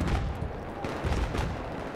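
Grenade exploding in Battlefield 3: muffled blasts and bursts of rumbling noise within ongoing combat, with a couple of stronger booms standing out from the continuous din.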